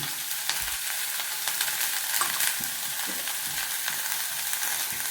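Chopped, washed cabbage sautéing in a pan with a steady sizzle and frequent stirring scrapes, close and continuous.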